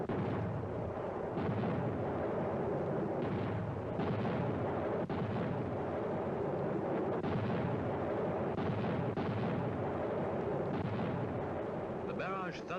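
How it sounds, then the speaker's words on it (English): An artillery barrage in the Vietnam War thuds on at night, with repeated deep, booming impacts rolling at irregular intervals over a continuous low rumble, fairly distant. "The barrage thuds on into the night."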